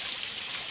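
Spring water trickles through a small channel in a hilly village setting, a continuous soft hiss of flowing water with no voices.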